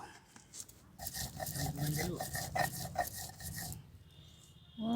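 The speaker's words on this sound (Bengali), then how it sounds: "সর্ষে, পোস্ত, নারকেল, কাঁচা লঙ্কা আর সিমের বীজ এসব আমি একসাথে বেটে নেব" Mustard, poppy seeds, coconut, green chili and bean seeds ground together by hand on a stone, making close, rhythmic rasping and scraping strokes with some talk mixed in.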